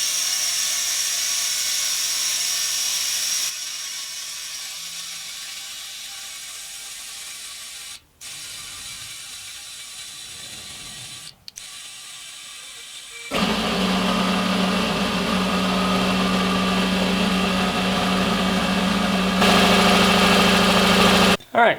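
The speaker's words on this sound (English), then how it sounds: "Let's do the same thing, see how long it takes this compressor." Air compressor running steadily while it inflates a tire from 5 psi, a continuous mechanical drone that drops quieter mid-way, then returns louder with a strong hum and a hiss.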